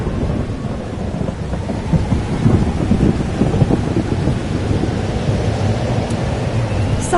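Thunderstorm with steady rain in the game Life is Strange: Double Exposure, a dense continuous rumble of rolling thunder and rainfall at an even, fairly loud level with no voices.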